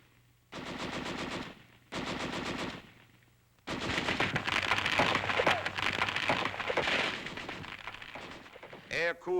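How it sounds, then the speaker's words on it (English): A water-cooled .30 caliber machine gun fires in old film footage: two short, rapid bursts, then a longer, denser stretch of loud rattling gunfire. "30 caliber machine gun, water-cooled to fire 600 hot slugs a minute."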